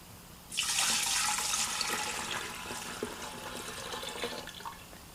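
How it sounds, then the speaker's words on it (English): Sweetened tea poured into a kombucha jar for a continuous brew: a sudden splashing pour starts after a short pause and runs as a steady bubbling stream into the vessel, gradually thinning toward the end, close and fairly quiet. "And then you just go ahead and pour your sweetened tea in there"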